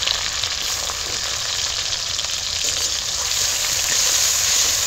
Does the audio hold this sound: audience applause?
no